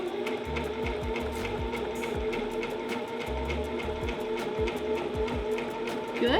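A sewing machine joins shirt pieces together with a fast, regular mechanical clatter of needle strokes, close by and steady throughout, with no voices over it.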